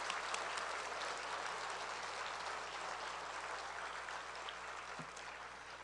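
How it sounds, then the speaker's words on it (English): Steady, dense applause from an audience at a hall of distinction induction ceremony, sustained and even throughout with no voices. "So please give these people a round of applause"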